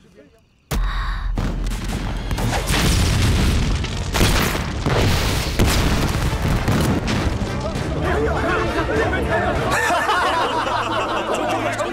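Fireworks burst in a dense, continuous barrage of booms and crackles after a sudden onset, loud and sustained for the whole stretch, during a festive night scene in a Chinese wuxia drama.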